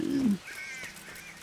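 A bird calls in the medieval game Kingdom Come: Deliverance, a brief low thump followed by a thin raspy cawing call that fades, fairly quiet.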